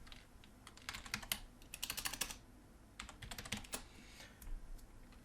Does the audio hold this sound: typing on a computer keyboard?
yes